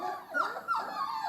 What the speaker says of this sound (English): it grizzles and cries and yelps